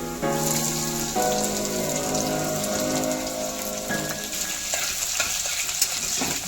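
Green chillies and garlic sizzle with chicken in a pan for chicken methi bhaji, a close crackling fry with scraping stirring sounds and a faint background tone, no speech.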